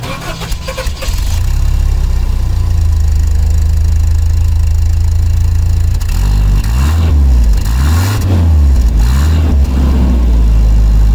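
A 1985-89 Toyota Van Wagon with a freshly replaced muffler starts up and settles into a loud, steady idle, then revs several times in rising and falling swells, close up and with no talking.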